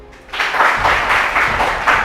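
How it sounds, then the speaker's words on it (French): Audience applause breaks out on a cooking competition show, building after a quiet start into steady, dense clapping that holds loud and continuous to the end. "On les applaudit."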